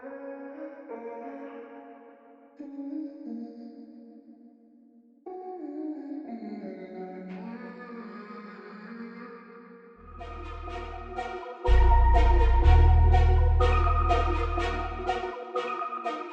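A processed vocal sample in FL Studio, formant-shifted and run through delay, reverb, filtering and panning tremolo, plays as a smooth layered RnB loop with shifting chords; a heavy bass layer joins near the end and the sound grows louder.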